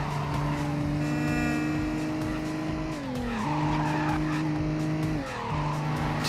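Car sliding on the handbrake in the racing video game Midnight Club 2: a loud, steady engine drone carries throughout, with a tire screech and pitch dips near the three- and five-second marks as the car skids.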